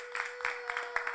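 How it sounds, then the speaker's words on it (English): A conference audience applauds a presenter from the seats, a faint, distant patter of clapping with a steady tone humming underneath. "Let's give him a round of applause."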